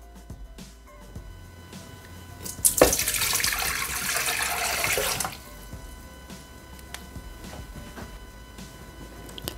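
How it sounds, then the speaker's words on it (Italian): Water streams into the jug of a Thermomix TM6 for a steamed zucchini recipe, a steady splashing pour lasting a few seconds between quiet kitchen handling noises. "Iniziamo la ricetta mettendo all'interno del boccale l'acqua."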